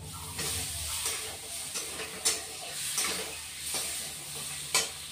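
Vegetables and tomato sizzling in a pan for fish curry, a steady hiss with a few sharp scraping stirs punctuating it at intervals.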